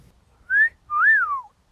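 A person gives a clear two-part wolf whistle at girls, a short rising note followed by a longer note that swoops up and falls away, heard alone.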